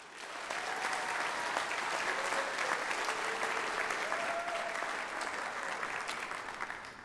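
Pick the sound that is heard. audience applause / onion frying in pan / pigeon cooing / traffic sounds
audience applause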